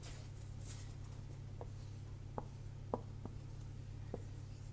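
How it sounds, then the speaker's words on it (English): Marker writing a word on a board, several short faint strokes and taps spaced irregularly over a steady low hum, with no talking. "I'm going to write that on my board"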